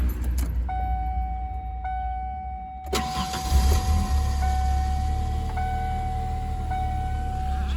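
A Fox-body Ford Mustang convertible cranks and fires up at close range, then settles into a steady low idle that carries through to the end with no talking.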